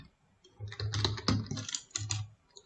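Typing code on a computer keyboard for an Android Firebase database project, a close, quiet flurry of rapid key clicks in two short bursts with a brief pause between.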